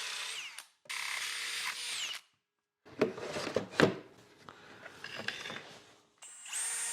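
Power drill boring a cable hole through wood while building a belt sander jig, several close whining bursts separated by brief silences, with scraping and clatter as the bit cuts through.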